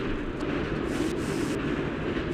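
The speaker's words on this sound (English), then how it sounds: "I just bounced off of the freaking train!" Train rumbling steadily and loudly in the PlayStation 2 video game ATV Offroad Fury 2, a continuous dense roar with faint clatter and no talking.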